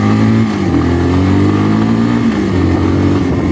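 A Honda Big Red ATV with carburetor problems revving loud and close, its engine pitch climbing and dropping as it pulls through first gear and shifts into second.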